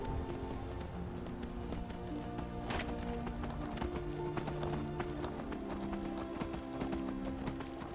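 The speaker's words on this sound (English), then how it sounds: "Damn it, Skyrim horse." Hooves of a galloping horse clip-clop rapidly and steadily in the Skyrim video game, close and continuous under faint game music.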